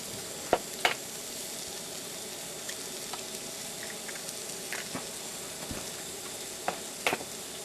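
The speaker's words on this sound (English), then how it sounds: "Now I'll just crack a couple of eggs into there" A couple of eggs cracked into a Decor plastic bowl at a camp kitchen while making an omelette: a few sharp taps and cracks, two close together near the start and more near the end, over a steady background hiss.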